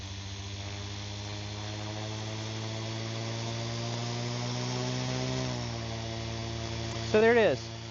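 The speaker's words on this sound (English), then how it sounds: "when we kick it in run, it should spool up" A FlyWing FW450 V3 RC helicopter's motor hums steadily, its tone rising as it spools up, ending with a sharp whining sweep near the end; no talk over it.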